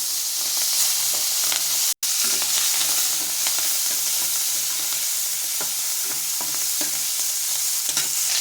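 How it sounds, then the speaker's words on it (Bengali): Prawns fry in a small amount of hot oil in a pan with a loud, steady, hissing sizzle that cuts out briefly for a moment and then continues unbroken. "আগে ফার্স্ট আমি অল্প তেল দেবো চিংড়ি মাছটা ভাজার জন্য"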